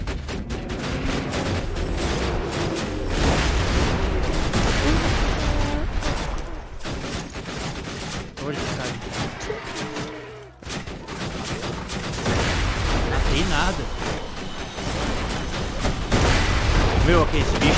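Gunfire in the video game Borderlands fills the scene with dense, continuous volleys and booming shots, loud throughout, as players talk over it.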